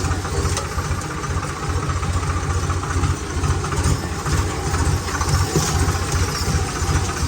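A tractor engine runs steadily nearby on a farm during millet harvest, a low throbbing drone with a continuous mechanical rattle that holds constant throughout.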